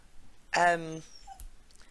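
A female dog whimpers once in a short, fairly close whine lasting about half a second, followed by a faint yip and then near silence.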